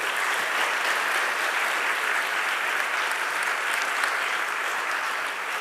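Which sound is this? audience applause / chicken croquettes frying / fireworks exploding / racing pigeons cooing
audience applause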